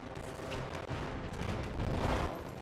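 Rapid, dense gunfire in the video game Anthem crackles continuously in a heavy, unbroken barrage of overlapping shots and blasts with no clear gaps.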